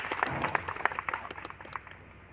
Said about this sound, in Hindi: गुड, इनके लिए बहुत तालियां।